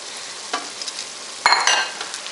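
Green onions stir-fried in a hot pan, with a soft sizzle under a couple of brief scraping stirs, the second louder and longer.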